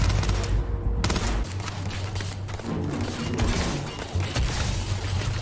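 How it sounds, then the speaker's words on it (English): Gunfire from Starfield, a rapid loud burst of shots rattling almost continuously with heavy low thumps underneath, a few sharper cracks standing out, no talking. "if you want better results, you tap fire."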